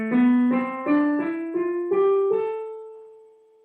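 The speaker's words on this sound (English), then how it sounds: "Which is called the natural minor." Eight plucked notes of a natural minor scale climb steadily one after another, clear and close, with the last note left ringing and fading into silence.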